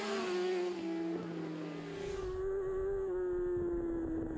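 Road-race motorcycles at Aberdare Park scream past at speed, with high engine whines shifting pitch as they go by, loud and continuous.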